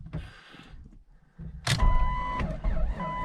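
A cheap Jeep Cherokee on a weak battery, jump pack removed, gives a brief strained crank, pauses, then catches with a sudden loud burst as the engine fires and runs roughly close by.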